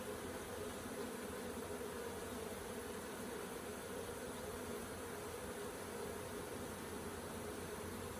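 A large honey bee swarm being settled into a hive box in the evening produces a faint, continuous droning hum, steady and unbroken with no voices.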